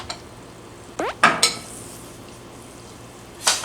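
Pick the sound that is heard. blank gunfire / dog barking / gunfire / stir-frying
stir-frying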